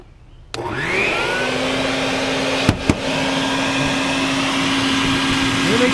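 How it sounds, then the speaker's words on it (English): A vacuum cleaner starts up abruptly beside a garage door, sucking up baldfaced hornets, and keeps running with a loud, steady whine, interrupted by a couple of sharp knocks. "Just gonna vacuum up into soapy water, drown them, and remove the nest"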